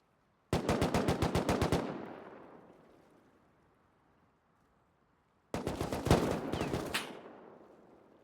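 Rapid automatic gunfire in the survival game Rust, loud and fairly close: a burst of about a dozen evenly spaced shots, a long fading echo, then a second, denser burst with no talking.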